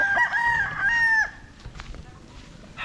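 A young gamefowl stag gives one loud, close crow lasting about a second, followed by soft clucks and faint farmyard noise.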